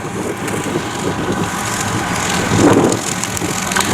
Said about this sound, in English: now there's that Chaffee going past